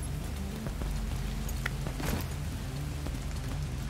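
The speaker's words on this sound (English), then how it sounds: "I wish this is not raining so we can see how this place looks like." Rain falling in The Division 2, a steady soft patter and wash of drops at low volume, with a few brief brighter splashes and a faint low rumble underneath.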